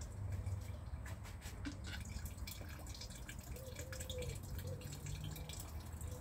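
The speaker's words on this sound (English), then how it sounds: "Hope your camera's picking that water flow up." Water running through a Sawyer one-gallon gravity filter, a faint, steady trickle and patter that continues throughout with no speech.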